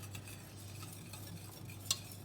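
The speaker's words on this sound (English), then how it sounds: "corn flour is in, I'm just reducing it by boiling it up" Duck gravy thickened with corn flour boiling in a pan while a spoon stirs it, giving soft continuous scraping and bubbling with one sharp clink near the end, quiet and close.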